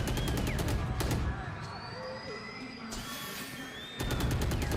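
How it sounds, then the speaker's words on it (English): Rapid bursts of gunfire sound in a VALORANT match, loud and sharp at the start and again at the end, with a quieter stretch of game ambience and tonal effects between them. "Push down, the shots coming in, he's looking for it"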